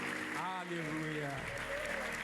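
A church congregation claps steadily while a voice speaks and sings over the applause.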